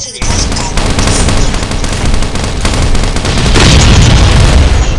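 Loud gunfire and booming explosions from the survival game Last Island of Survival, a dense continuous barrage with bursts throughout and a heavier blast near the end, with voices shouting over it.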